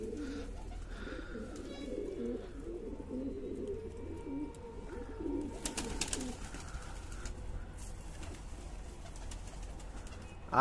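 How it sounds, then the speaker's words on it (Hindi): Low, soft pigeon coos repeat in a steady murmur close by, with some rustling and a few light taps in the background. "नया कबूतर देखते ही कबूतर गुटकने लग जाए उसके ऊपर"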